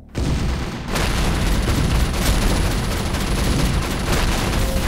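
Dense, sustained volley of gunfire erupts after a brief quiet start and rolls on continuously, loud and close, as massed shots and booms in an audio drama battle scene.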